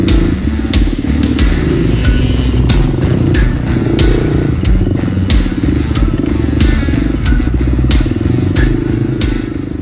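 Several dirt bikes race through a family enduro at Roselawn, Indiana, in a District 14 AMA event. Engines drone and rev continuously at close range, with sharp, rapid throttle blips throughout and no talk.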